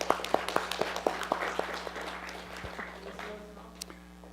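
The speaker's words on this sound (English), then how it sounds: "Give Congressman another round of applause." An audience at a forum gives a congressman a round of applause, heard as a few distinct rhythmic claps at first, then softening into a lighter patter with voices murmuring beneath.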